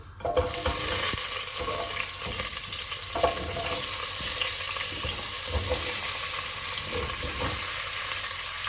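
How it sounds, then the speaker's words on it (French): Autumn vegetables sauté in hot olive oil in a pot with a continuous sizzle, broken by a few stirring clatters and bumps of the vegetables against the pot. "Une fois que ma marmite est bien chaude, je vais y déposer mes légumes."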